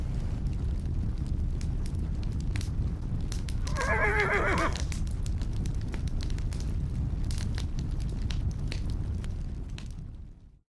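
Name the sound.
horse in an animation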